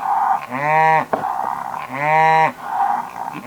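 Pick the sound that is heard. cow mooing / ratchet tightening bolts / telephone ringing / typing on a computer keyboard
cow mooing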